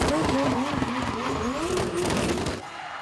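A Mercedes drifting at a drift event squeals its tires loudly and continuously, with engine roar underneath, before the noise drops off at the end.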